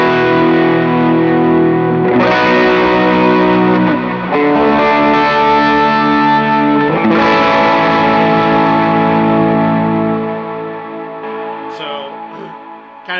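Electric guitar played through the Brown Amps Protein pedal on its Blues Breaker overdrive side, with thick, sustained driven chords ringing loudly over several seconds with fresh strums, no talking.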